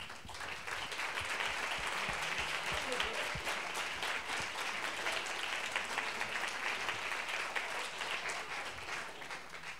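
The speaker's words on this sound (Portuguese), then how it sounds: "que se levantassem para receber os merecidos aplausos" A seated audience gives steady, sustained applause for the jurors at a journalism award ceremony, the Prêmio Claudio Weber Abramo, a continuous wash of clapping at moderate distance throughout with no voices on top.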